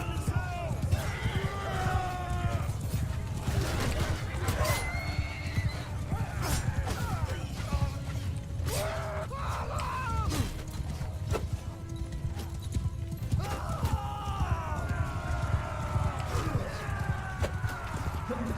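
Horse hooves clip-clop steadily through a Mount and Blade II: Bannerlord battle, with occasional whinnies and neighs among clashing combat noise and a dense, continuous din throughout.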